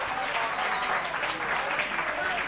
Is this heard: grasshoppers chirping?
no